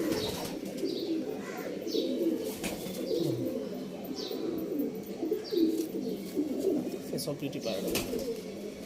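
Pigeons, a pair of Kaldum-type birds, coo softly and repeatedly amid low murmuring, with occasional faint chirps over a busy, muffled background.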